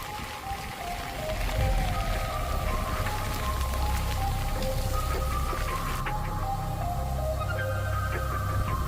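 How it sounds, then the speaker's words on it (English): Torrential rain and strong winds of Hurricane Francine in southern Louisiana, a dense, constant roar of rain and gusting noise with steady intensity throughout, no speech. "strong winds and torrential rain swept across southern Louisiana"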